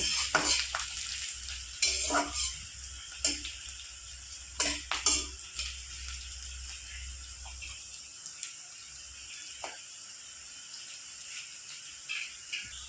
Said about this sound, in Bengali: এবার দিয়ে দেবো কাঁচা লঙ্কা চিড়ে রেখেছি একটু হালকা ভেজে